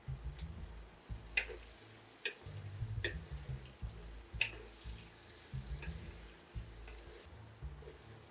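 Whole garam masala spices fry in oil with onion for a duck curry, a faint soft sizzle broken by scattered crackles and light clicking pops.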